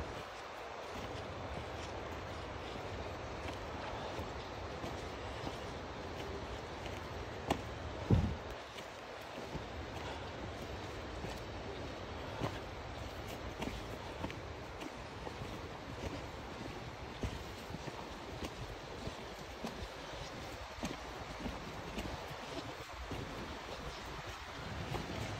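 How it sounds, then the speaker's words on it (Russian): Steady rushing roar of a mountain river near a bridge on a hiking route in northern Sweden's Sarek and Padjelanta wilderness, continuous broadband water noise with wind buffeting the microphone and one brief knock partway through. "Дорога на мост через горную реку."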